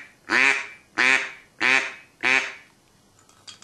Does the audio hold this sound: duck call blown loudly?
yes